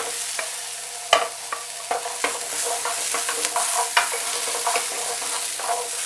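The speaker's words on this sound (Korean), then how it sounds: "당근도 코팅 될 정도로만 살짝 볶아주시고요." Carrots and potatoes are stir-fried in a pan. A steady sizzle runs throughout, broken by frequent scraping and clattering strokes of a utensil stirring the vegetables, with no talking.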